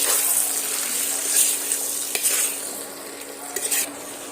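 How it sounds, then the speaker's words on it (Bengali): Egg curry being sautéed in a pan with chilli and ginger-garlic paste, a steady close sizzle with scraping stirs and occasional clinks of the utensil against the pan. "সমস্ত কিছু দিয়ে আবারও সুন্দরভাবে কষিয়ে নিতে হবে"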